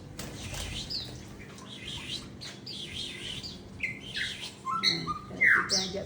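Small birds in a home garden in the morning chirp and tweet in short, scattered bursts over a quiet outdoor background, growing busier and a little louder toward the end.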